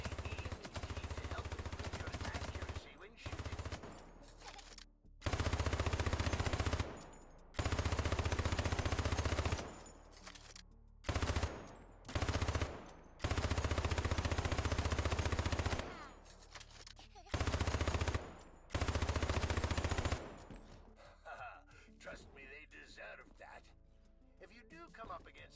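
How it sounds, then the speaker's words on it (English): A weapon firing at targets in the shooter game Hypercharge: Unboxed, loud sustained bursts of rapid automatic gunfire separated by brief silences, repeating across the clip. "Use your weapon to destroy those targets."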